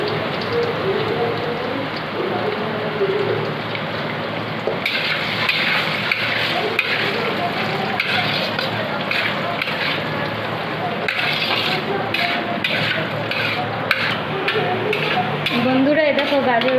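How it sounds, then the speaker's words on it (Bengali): Carrots frying in refined oil for fried rice give a steady, close crackling sizzle, busy and dense throughout with occasional stirring clatter and no voice over it. "এবার আমি গাজরগুলো ভেজে নিচ্ছি"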